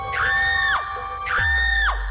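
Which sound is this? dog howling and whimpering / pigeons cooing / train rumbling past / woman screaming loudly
woman screaming loudly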